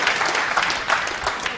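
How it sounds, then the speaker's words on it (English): A crowd applauds a shot by Rodney Morris at the 2006 World Cup of Pool final between the Philippines and the USA, a dense clapping that lasts the whole moment. "Everybody applauding the effort from Rodney Morris there."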